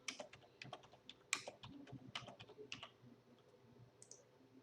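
ID number being typed on a computer keyboard, a quick uneven run of close, crisp key clicks with short pauses between bursts, the typing fading toward the end.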